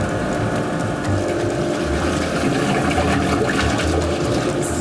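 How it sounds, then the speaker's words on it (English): A paint mixer's disperser blade spins fast in a vat of liquid paint ingredients, making a loud, constant churning whir with a liquid wash that continues throughout. "because the disperser blade is spinning really fast and it makes a lot of noise"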